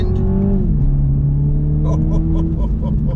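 A BMW 4 Series engine revs up loudly and steadily, its pitch climbing, dipping slightly, then rising again in a sustained, close acceleration with no one speaking.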